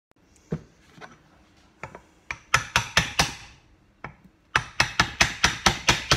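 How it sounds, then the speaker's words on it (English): A punch being hammered to tap a part off an Eaton M90 supercharger, sharp metallic strikes starting sparse and then coming in fast, evenly spaced bursts, loud and close with no talking. "So we'll get a punch and we'll be trying to tap him here and there, and also gently from the underside and try and tap this bad boy off"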